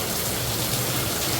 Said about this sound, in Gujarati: વરસાદ સ્ટાર્ટ થઈ ગયો છે.